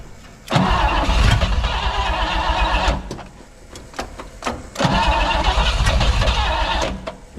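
A Pontiac Bonneville engine cranks on a new battery in two loud bursts of rapid starter churning, each lasting a few seconds with a short pause between, close up with no talk.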